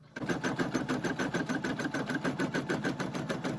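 An embroidery machine stitches a shopping cart coin holder key fob, giving a steady, rapid, evenly pulsing mechanical chatter with a high whine that runs unbroken at close range and no voices.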